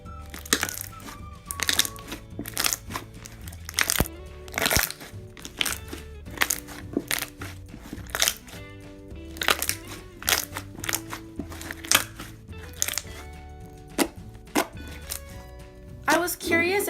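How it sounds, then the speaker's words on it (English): Store-bought slime being squeezed and worked by hand gives a close run of crisp crunches, crackles and pops, repeating irregularly over a steady background hum. "they made really good crunching noises"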